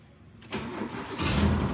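A Mitsubishi Lancer GLXi engine cranks and catches after a brief quiet moment, then settles into a steady, close idle rumble.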